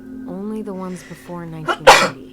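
A single sharp sneeze bursts out indoors right after a stretch of close talking, loud and brief at the end.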